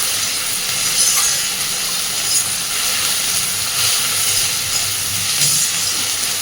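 Onions and tomatoes fry in a pan with a loud, unbroken hiss of sizzling close by, holding evenly throughout with slight swells.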